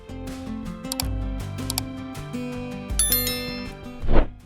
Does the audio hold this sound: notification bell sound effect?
yes